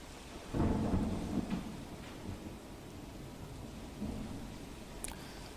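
Thunder rumbles loudly near the start over steady rainfall during an early-morning downpour in Pardi, Valsad district, South Gujarat, then the rain continues as a constant wash with softer rumbling and no voices.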